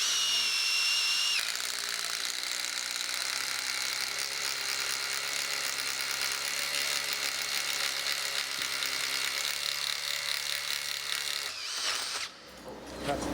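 A combination drill-tap bit in an impact driver bores through 6mm steel plate, giving a steady, loud whining grind that runs for about ten seconds before stopping abruptly.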